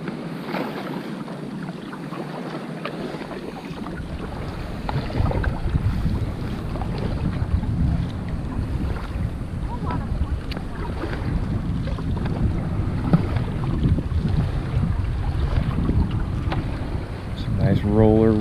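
Kayak paddling out along the shore of Hope Island, with steady wind buffeting the microphone and water sloshing around the hull throughout, fairly loud and continuous with no talk.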